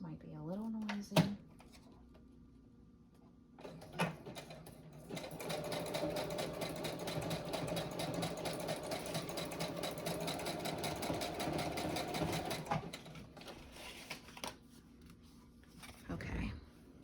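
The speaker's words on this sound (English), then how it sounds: "I'm gonna do a zigzag stitch right down the edge because my sewing machine is right here." Sewing machine running a zigzag stitch along the edge of an index card project, a steady mid-level whirring run of about seven seconds, with brief speech and handling noises before and after.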